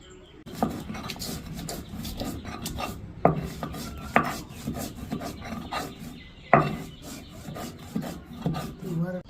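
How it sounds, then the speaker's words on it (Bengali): Fried chilies are ground by hand on a grinding stone, giving a rhythmic series of rough scraping and rubbing strokes with occasional sharper knocks, close and fairly loud, without any talking. "ভাজা ঝালগুলোকে বেটে নেব তো"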